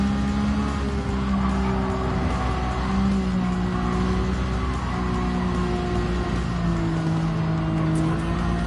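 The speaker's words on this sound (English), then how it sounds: "Oh, rip a skid, bro." Race car tires skid and squeal in Gran Turismo 7, a loud sustained screech riding over a continuous droning engine note that holds for the whole stretch without a break.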